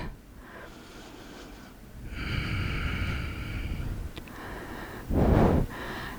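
Slow, audible breaths during a vinyasa yoga flow, with long airy inhales and exhales close to the microphone and one sharp, forceful exhale near the end.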